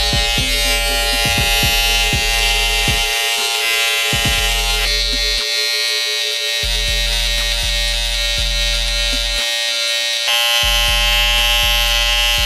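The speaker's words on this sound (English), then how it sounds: "I got wall clippers." Wahl wireless electric hair clippers run close up, a loud steady motorized buzz with brief dips in tone as the blades bite into hair, with no voices.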